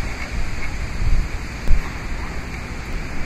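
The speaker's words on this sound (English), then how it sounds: "Let me wait for the wind to quit blowing here for a second." Wind blowing outdoors buffets the microphone in a steady, loud, roaring rush that swells in low gusts throughout.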